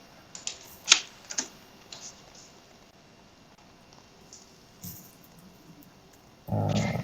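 Typing on a computer keyboard during a live-stream workshop: a few sparse, quiet key taps early on, then near silence, with a brief louder burst of noise at the end.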